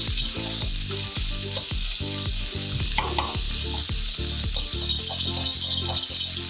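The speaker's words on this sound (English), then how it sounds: "So first I'm gonna put in my sausage. You want to make sure you break it up." Sausage sizzles and crackles loudly in a hot pan while being broken up, a dense continuous frying hiss with repeated scraping and stirring strokes, no talking.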